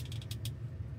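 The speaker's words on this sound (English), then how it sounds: "It even creaks the facet joints as they slide together." A plastic lumbar spine model creaks as its facet joints slide together, giving a few short, closely spaced squeaky clicks over a low hum, quiet and up close.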